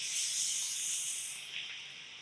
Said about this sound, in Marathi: आणि आता ही छान तळून घ्यायची.